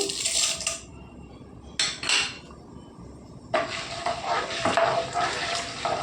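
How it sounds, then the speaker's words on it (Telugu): Chana dal and urad dal tipped into hot oil in a pan for okra fry, giving sharp clattering bursts of metal and scattered grains, then a sustained sizzling crackle with faint utensil scraping, close and fairly loud. "నూనె వేడెక్కిందండి. ఇప్పుడు పచ్చెనపప్పు, పొట్టుమినపప్పు వేసుకుందామండి."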